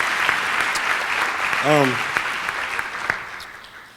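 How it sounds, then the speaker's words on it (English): Applause from an audience at an elders-and-youth storytelling gathering, a moderate wash of clapping with a brief voice rising through the middle and a few sharper claps near the end as it tapers. "Please, a round of applause for those."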